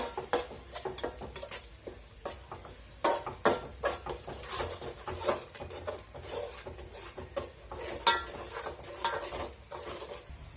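Amti curry stirred in a pot, a ladle scraping and rubbing against the metal in quick, uneven strokes that repeat for several seconds, close and fairly loud, with no voices.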